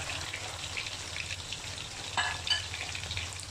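Chicken wing middles drop into very hot oil in a home kitchen, setting off a steady, dense frying sizzle with a few sharper pops toward the end, close and continuous.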